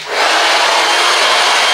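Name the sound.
hair dryer at maximum power and temperature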